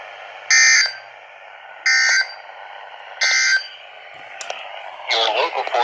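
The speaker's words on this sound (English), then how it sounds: "The warning alarm tone will be activated for hazardous conditions." NOAA Weather Radio warning alarm tone test: three loud, evenly spaced long tone bursts over a steady hum, followed by a brief burst of data-like chirps.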